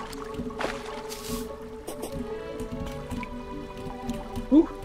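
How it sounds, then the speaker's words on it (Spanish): Trickling water underground in Terraria, faint soft liquid drips and gurgles under a quiet game music bed, with a couple of small splashy accents. "Oh, escuché agua."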